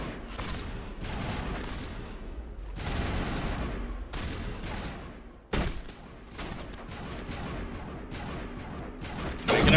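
Gunfire from the video game Mass Effect, bursts of rapid shots and fusillades in several waves, loud and close, with no speech.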